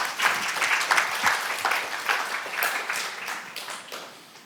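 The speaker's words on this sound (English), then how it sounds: "Can we have a round of applause?" Audience members at a lecture clap for a volunteer, a moderately loud burst of applause with distinct claps standing out, gradually tapering off toward the end.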